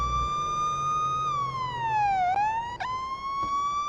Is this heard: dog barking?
no